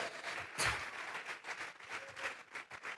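Church congregation clapping together during a live anniversary worship service, a dense sustained patter of many hands with a louder burst near the start, no talk over it.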